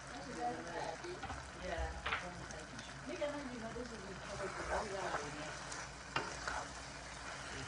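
Chicken stew with garlic and thyme is stirred in a pan, giving soft scraping and a light sizzle under a speaking voice.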